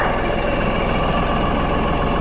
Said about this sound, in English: Sorry for the tractor noise, but I'm not going to shut it down.